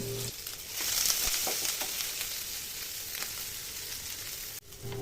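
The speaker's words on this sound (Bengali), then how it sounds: "পেঁয়াজ কুচি আর কাঁচামরিচ কুচি দিয়ে ভাজতে থাকুন" Chopped onion and green chilli fry in soybean oil in a pan, a continuous close hissing sizzle that holds steady for several seconds.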